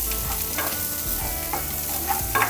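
Onions, green chillies and coriander leaves sautéing in a pan for a Kerala-style fish curry, a steady close sizzle with frequent scraping stirs of a spoon, no talking.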